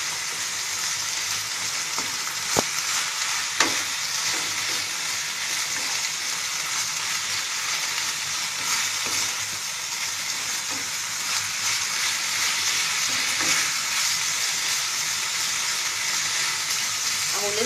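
Meat sautéing in a hot pan gives off a steady, loud sizzle that holds without a break, with only small crackles and pops.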